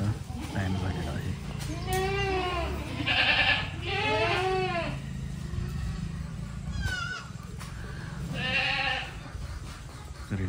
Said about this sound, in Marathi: सर्व शेळ्या वैरण खायची वाट बघत आहेत